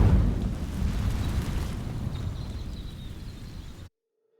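A fire spell igniting dry vines in Hogwarts Legacy, a loud roaring whoosh of flame that burns steadily for nearly four seconds before cutting off to silence.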